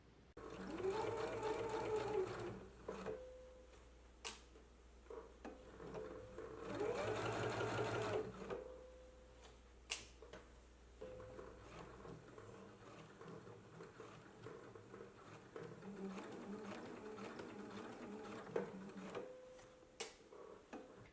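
Domestic sewing machine stitching in the ditch along a garment waistband in contrasting thread: two loud bursts of rapid mechanical stitching separated by quieter handling, clicks and fabric shifting, with a steady low motor hum through the first half.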